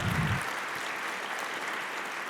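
Applause from a large crowd at a charity awards night, steady dense clapping heard alone after a brief low voice at the start.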